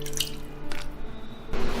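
Water splashes and trickles into a pot holding red dates, angelica slices and longans for a sweet soup, with a few close drips and a brief pour near the end.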